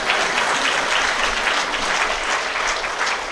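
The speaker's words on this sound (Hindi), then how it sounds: "ताली तो बजा दो।" Audience at a Diwali celebration in a retreat centre claps together in a dense, sustained round of applause, loud and even for a few seconds without talk over it.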